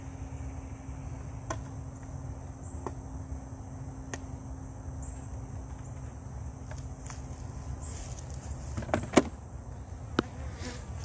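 A steady low buzz of many honey bees droning together, with a few sharp clicks and taps breaking through near the end.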